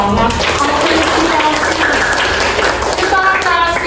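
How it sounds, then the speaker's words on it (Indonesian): Students applauding in a classroom, a steady dense clapping that lasts several seconds with talking and cheering voices mixed in. "Boleh dong kasih tepuk tangan."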